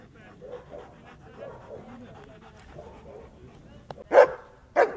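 A guard dog pants quickly and steadily through a training session, with a few brief whimpers and sharp yips, while people talk nearby.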